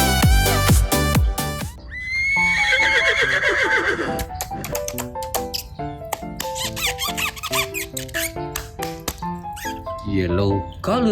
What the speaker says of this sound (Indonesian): Yang ini hewan kuda.